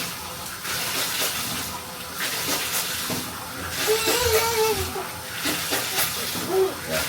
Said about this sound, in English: Rinse out the rag, can get a little bit more soap out the panny and just wash out that excess dirt